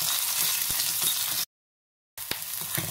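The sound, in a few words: onion sautéing in pan with cumin, cloves and pepper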